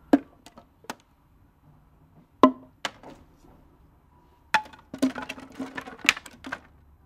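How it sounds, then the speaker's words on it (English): Wooden planks handled as foley for soldiers working in First World War trenches: scattered sharp knocks and clatters, a few isolated hits early on, then a denser cluster of rattling wood impacts, close and dry with no voices. "So I've got wood plank sounds, so soldiers working with wood in the trenches."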